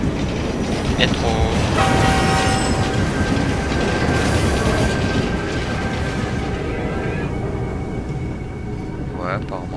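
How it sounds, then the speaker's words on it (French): A metro train runs in Assassin's Creed Unity, a loud continuous rumble with a metallic wheel squeal and a brief horn-like tone, while voices talk over it throughout. "Métro."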